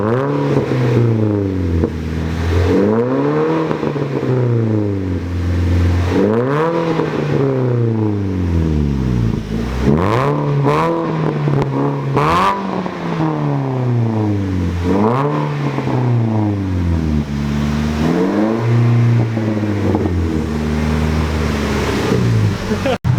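A Nissan Versa with a loud aftermarket exhaust revs and accelerates repeatedly up close. Its deep, droning tone climbs and drops through several gear pulls in a rhythmic pattern, with voices talking underneath.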